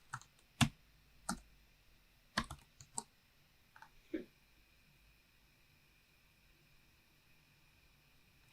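Several sharp computer mouse clicks sound close and quiet, scattered irregularly in the first four seconds of a WordPress WooCommerce setup, then near silence.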